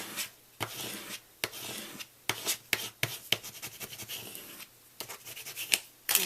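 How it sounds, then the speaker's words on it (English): A tool burnishes a rub-on transfer onto a paper card, making short, close scratchy rubbing strokes in an uneven rhythm. "I'm going to take another rub-on, and this is part of the set, and I'm going to go ahead and burnish this"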